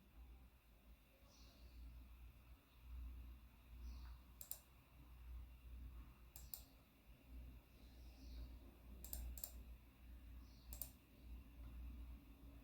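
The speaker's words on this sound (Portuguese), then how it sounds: "Vamos usar no teclado de novo." A MacBook Air keyboard gets a few sparse, separate key presses, crisp faint clicks scattered over a quiet room hum with soft breathing-like noise.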